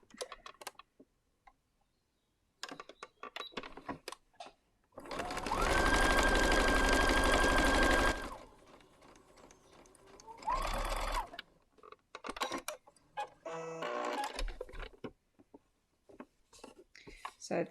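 A sewing machine stitches quilt block squares together in one loud, steady whirring run of about three seconds and a shorter burst after it, with scattered clicks and handling noises around them.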